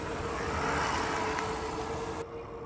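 A PuckiPuppy Labrador Pro fat tire e-bike rides on motor power alone at full speed, giving a steady, close electric motor whine over broad wind and tire rush before the sound drops off sharply near the end.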